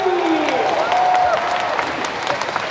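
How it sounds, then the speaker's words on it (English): Applause and cheering from a crowd on a convention show floor at a Final Fantasy XIV fan festival in London, steady and fairly loud for a few seconds, with tonal chatter and sounds drifting through. "Can we get a huge round of applause for Esports Ready?"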